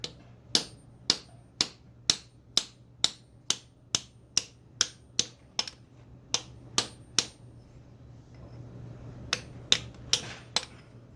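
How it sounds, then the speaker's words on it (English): Sharp metallic taps of a hammer on a flat chisel driving out a freeze plug on a 5.0L Mustang engine, about two dozen strikes in a steady quick rhythm with a short pause midway, close and fairly loud. "I'm going to use my flat chisel, and I'm going to strike it with the hammer"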